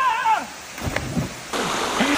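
Someone bathing in cold water splashes, with a brief vocal sound at the start followed by sloshing and running-water noise that swells again near the end.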